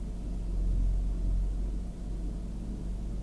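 A quiet, steady low rumble of an 18-year-old VW Golf 1.6 litre petrol engine at idle, smooth and continuous with no other sounds.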